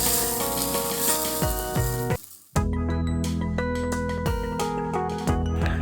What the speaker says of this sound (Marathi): ही तयार फोडणी आपण आपल्या मिश्रणावर ओतून घेऊया